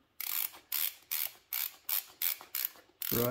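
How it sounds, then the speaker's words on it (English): A BOA dial on a Shimano MW7 winter SPD cycling shoe is ratcheted by hand, giving about eight crisp, close clicks in an even rhythm, with a louder rustle at the end. "ratchet it down, and get it kind of snug"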